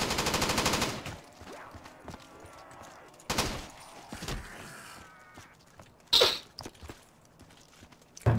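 Gunfire in the Call of Duty zombies mode on a custom Teotihuacan map, a dense burst at the start and then scattered single shots and bangs, fired while backpedalling, with a voice talking over parts of it.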